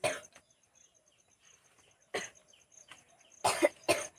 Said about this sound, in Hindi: बहुत खांस रहा है।